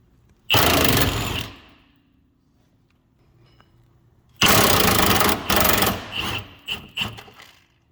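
An impact wrench hammers off control arm bolts on a 1999-2004 Jeep Grand Cherokee: one short loud burst, a pause, then a longer burst that breaks into several stuttering bursts, close up.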